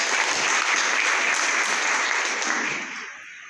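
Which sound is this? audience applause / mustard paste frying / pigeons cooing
audience applause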